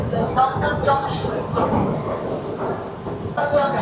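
Sealdah–Bangaon AC local train running toward Dum Dum Junction, a continuous close rumble and rattle of the carriage with a voice speaking over it.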